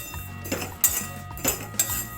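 Spices and dried chilli dry-roasting in a pan, heard mainly as a few clinks and scrapes of a utensil stirring against the metal, close by, at an uneven rhythm over faint background noise.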